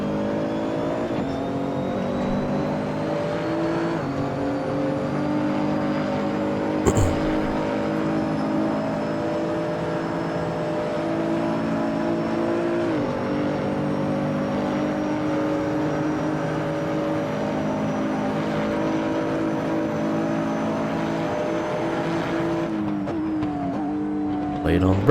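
A Nissan GT-R GT3 race car in Assetto Corsa holds a loud, steady engine drone at Watkins Glen, pitch shifting gently with a few brief gear changes, while a voice talks over it.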